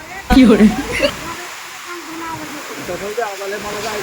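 Heavy rain keeps pouring during a cloudburst with hail, a constant hiss under loud nearby voices of people talking.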